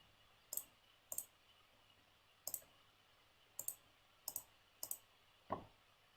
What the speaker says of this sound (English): type it into your calculator